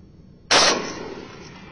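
A rifle fired at night: one loud, close, sharp blast that trails off into a fading echo lasting over a second.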